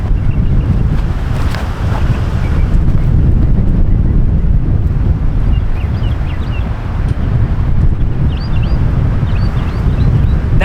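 Loud, constant wind buffeting the microphone at an outdoor disc golf championship event, a rough low roar running unbroken through the whole stretch with no talk.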